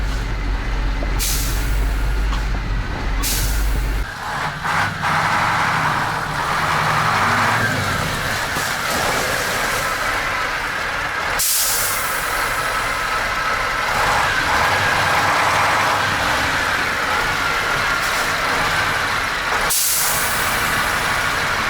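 Air brakes on the rear axle of a Ural 4320 truck taken out of storage being bled, with loud sharp hisses of released air bursting out repeatedly over a steady engine idle, one near the start and others spaced through.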